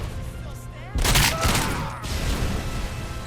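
Explosive bursts of grenades blasting in RoboCop: Rogue City, a loud broadband blast hitting about one second in and a second burst near two seconds, set against game music and a steady rumble of combat noise.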